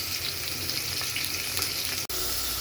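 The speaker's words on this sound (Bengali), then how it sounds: "মাছ ভাজাটা হয়ে গেছে" Rohu fish head sizzles lightly in hot oil, giving a steady, close crackle with a brief clink near the end, and no talking.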